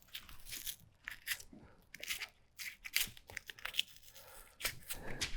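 Dried patch material trimmed off a sun-warmed block wall during textured-wall prep, giving repeated close scraping, tearing and crunching strokes in irregular bursts.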